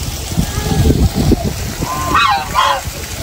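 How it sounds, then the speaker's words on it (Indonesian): A goose at BN Zoo in Pangkalpinang lets out two close, loud honks after a stretch of people talking and low background bustle. "Halo angsa gitu."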